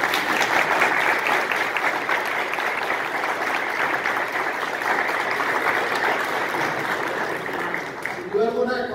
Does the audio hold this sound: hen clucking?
no